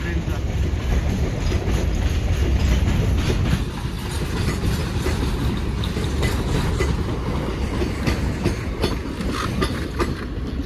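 A train running on rails with steady, loud rumbling and rhythmic clickety-clack throughout, the noise easing slightly after a few seconds; a faint voice may be mixed in.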